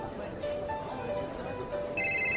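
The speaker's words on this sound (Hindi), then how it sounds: "सागर का फोन आ रहा है, लीजिए बात कीजिए" A phone rings with an incoming call during a Hindi drama scene: a steady electronic ringtone repeats at moderate volume over a faint background, and the tone turns brighter and louder near the end.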